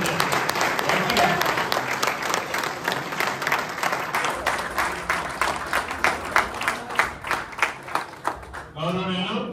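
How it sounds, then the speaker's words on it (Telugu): A crowd at a goldsmiths' association meeting applauding, a dense burst of clapping that thins into scattered individual claps, followed by someone speaking into the microphone. "ఒక్కసారి అందరూ చప్పట్లు కొట్టాలన్నా గట్టిగా"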